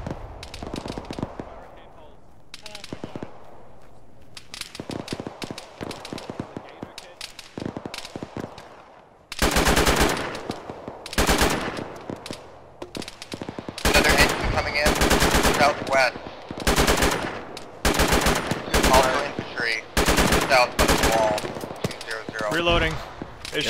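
Bursts of machine gun fire in a ShackTac military video game, from sparse distant shots to long loud rattling volleys, with voices talking between and over the firing.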